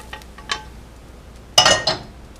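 A plate and a pan clink together as Swiss rösti is flipped: a faint knock, then two louder, close clattering hits near the end, with no talk.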